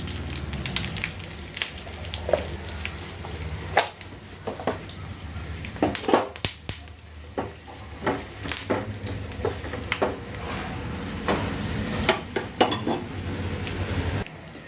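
Mustard seeds and a couple of dried red chillies sizzle in hot oil for tempering a sesame tamarind curry, a steady crackling hiss dotted with pops and spoon clinks throughout.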